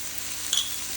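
Tomatoes sauté in a pan for masala Maggi, giving a steady close sizzle with a brief clink partway through.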